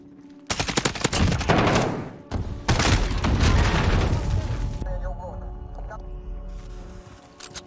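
In Call of Duty Modern Warfare, two loud volleys of rattling machine-gun fire and booming shots come close together, then fade into lighter distant firing with shouted voices underneath.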